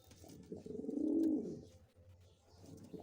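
A pigeon coos once, a soft low rolling call rising and falling close by, with quieter rustling and faint cooing around it and no speech.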